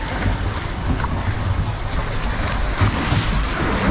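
Tiger Rock water ride at Chessington: a boat moves through water with steady splashing and rushing wash, heard close up alongside wind buffeting the microphone.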